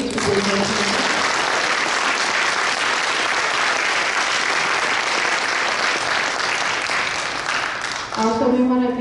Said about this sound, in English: Please get another round of applause to our 5 mayor candidates